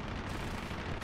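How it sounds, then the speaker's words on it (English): An explosion in an arcade-mode air combat video game makes a dense, loud, rumbling blast that fills the whole second without a break, with no talking. "I love flying through explosions."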